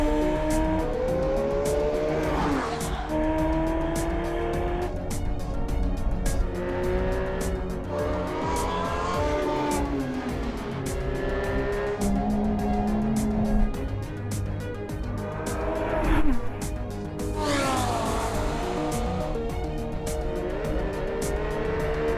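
A Bentley Continental GT V8S lapping the Nürburgring race circuit, its V8 engine rising and falling through repeated gear changes, with brief tire squeals and a loud, continuous, close-up roar throughout.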